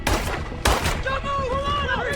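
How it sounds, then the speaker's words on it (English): Gunfire in a thriller movie scene: two sharp, loud shots crack about half a second apart at the start, followed by a ringing, fluttering tone and a final hit at the end. "Put down the gun, Max. Shoot him"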